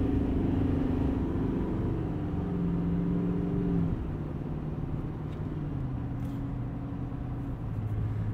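A 2020 Chevy Silverado 2500 Duramax diesel pickup accelerating, heard from the cab as a loud, steady low engine drone whose pitch climbs and drops through gear changes over road rumble, with no speech.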